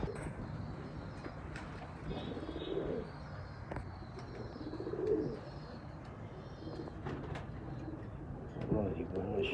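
Teddy pigeons coo softly on a rooftop in low, rolling bursts, with light chirps and a brief flutter of wings, while someone talks over the birds throughout.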